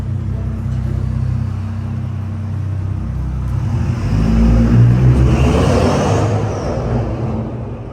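A BMW 535i fitted with a cold air intake pulls up nearby with a deep, steady engine rumble that swells louder partway through as it draws closer, then eases slightly, heard alone without talk.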